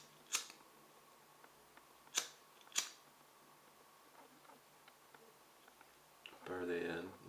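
A needle liner is trimmed with scissors: three sharp, close snips, one early and two in quick succession a couple of seconds later, over a quiet room, followed by a brief burst of sound at the end.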